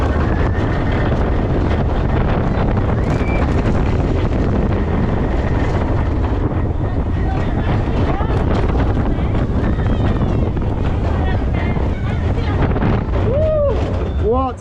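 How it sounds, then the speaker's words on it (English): Wind roars loudly and continuously past during a family roller coaster ride at Tibidabo Amusement Park in Barcelona, with rattling track noise and an occasional excited shout. "What an excellent family coaster."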